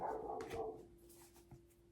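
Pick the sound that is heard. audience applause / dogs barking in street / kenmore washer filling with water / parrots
dogs barking in street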